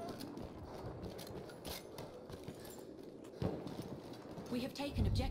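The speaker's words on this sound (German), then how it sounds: "Ich schieße auf Pferde." A horse gallops in the video game Battlefield 1: rapid, rhythmic hoofbeats drum close by and grow louder toward the end, mixed with game noise and voices.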